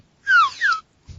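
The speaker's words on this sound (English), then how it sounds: "It's a slide whistle." A slide whistle gives two quick gliding tones, each sweeping downward in pitch, clear and fairly loud against a quiet background, with a short low thump at the end.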